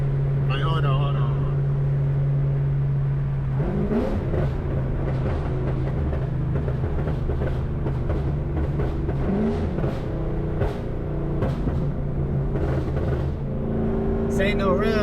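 A loud cammed Cadillac CTS-V V8 with a manual gearbox, heard from inside as the engine rumbles, revs and blips through double downshifts, with a steady lumpy drone and someone talking over it.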